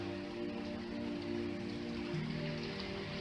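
Steady rain falls on a surface, a constant soft hiss of raindrops with a faint low hum beneath, no voices present.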